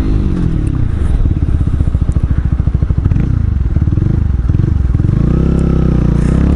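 A loud motorcycle roars close by, its exhaust pulsing in rapid throbbing beats that rise and fall with the throttle.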